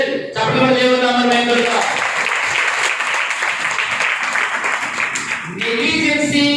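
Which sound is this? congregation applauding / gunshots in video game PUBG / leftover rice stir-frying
congregation applauding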